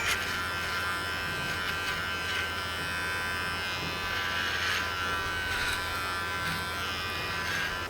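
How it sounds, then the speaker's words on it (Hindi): A steady Mi electric trimmer buzz runs continuously while cutting hair, with a bright, high-pitched whine, slight wavering as it moves through hair, close and fairly loud. "अगर ट्रिमर का ब्लेड छोटा है तो उसमें बाल फंस जाते हैं"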